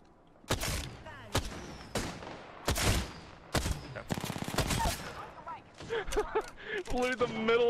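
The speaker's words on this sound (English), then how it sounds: "Literally the middle of a firefight." Rapid gunfire in an Apex Legends firefight, with sharp shots and short bursts cracking in uneven clusters. It goes on under close, excited talk.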